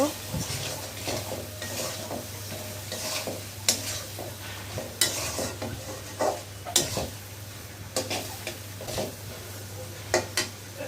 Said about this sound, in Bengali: এখন আমি ভালো করে এটা নাড়াচাড়া দিব। আমি কতক্ষণ এই যে চিংড়ি মাছটা ভাজা নিব।